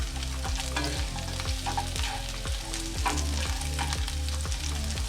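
Sliced zucchini frying in a hot pan with garlic and chilies, stirred steadily so that a continuous sizzle carries repeated rhythmic scraping strokes, close and fairly loud with no voices.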